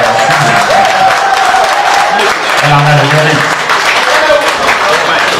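A large audience breaks into loud, sustained applause at an album presentation in Paris, a dense and unbroken wash of clapping with a voice speaking over it.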